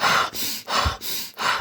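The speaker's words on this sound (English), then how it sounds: "that's where you want to do hyperventilation." Deliberate heavy hyperventilation breathing, three or four forceful rhythmic breath cycles with brief pauses between, close and fairly loud, no talking.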